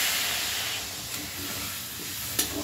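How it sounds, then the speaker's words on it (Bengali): Water poured into a pan of frying potato and cauliflower curry sends up a steady, faint hiss of steam and sizzle, with a small clink near the end. "এবার আমি এতে পরিমাণ মতো জল দিয়ে দেবো।"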